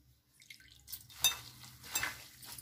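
Water poured into a soya chunk marinade with coriander powder and turmeric, heard as soft splashing and dripping with a few light clinks of a utensil, close and fairly quiet, without talk.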